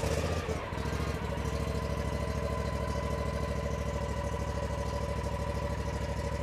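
The engine of a Yakta YXR710 zero turn mower is started and settles into a steady, even idle at low throttle, running continuously and close by with no voices.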